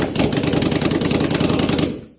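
A KTM 1290 Super Duke engine fitted in a Yamaha Raptor quad runs in a loud, close, rapid rhythmic chug for about two seconds before cutting off abruptly.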